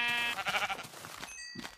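Sheep in the video game Minecraft bleat in a short run of wavering, nasal calls, fairly close and clear, with no talking over them.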